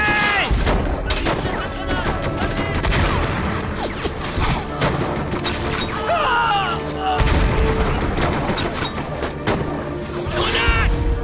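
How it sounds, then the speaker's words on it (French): Dense, continuous gunfire and crashing impacts from an action film battle scene firing on the governor's house, loud and unbroken throughout, with shouted voices mixed in. "tirez sur la maison."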